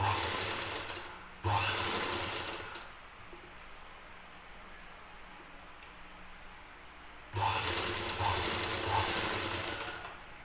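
A sewing machine fitted with a double foot runs thread piping stitches along a blouse, whirring in two bursts at the start and end with a quieter pause between, no talk.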